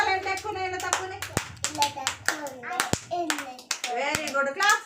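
Preschool children in an anganwadi class clap their hands in quick bursts of sharp, close claps, while an adult and children talk between and over the claps.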